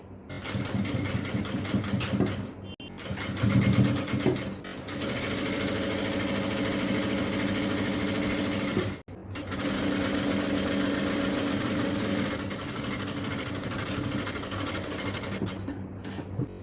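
A sewing machine stitches an XL-size jalabiya garment, running loud and close in long steady bursts with a brief pause near the start and another short break midway.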